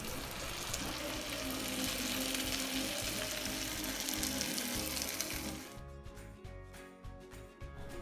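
Loud, steady sizzling of chili chicken frying in a pan, then a quieter stretch with rhythmic scraping and stirring close by as gravy is mixed in.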